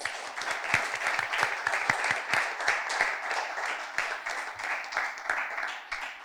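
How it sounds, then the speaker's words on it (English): Steady audience applause at an inter-secondary school debate, a dense wash of many hands clapping continuously at moderate loudness, with a few sharper individual claps standing out. "Please give them a round of applause."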